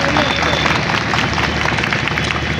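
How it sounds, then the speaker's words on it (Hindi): Applause rises from a crowd at a public gathering in Bagodar, Giridih, a dense steady clatter of clapping mixed with crowd hubbub, loud and sustained throughout. "जोरदार तालियों के साथ अभिनंदन"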